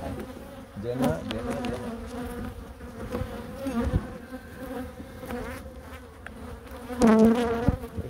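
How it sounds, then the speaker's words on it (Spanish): Honeybees buzzing densely inside an overwintering hive, a steady close drone with shifting pitch that swells louder near the end, while a person speaks briefly. "Esta está llena de abeja."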